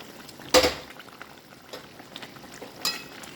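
Fish curry with ridge gourd, papaya, carrot, beans and capsicum simmering in a pot, a soft steady bubbling close by, with a sharp utensil clank near the start and a lighter tap later.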